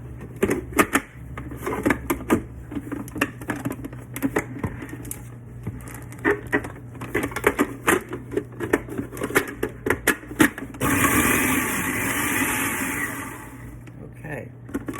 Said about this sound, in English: I'm fixing to go ahead and to chop them up, and I'm gonna use my processor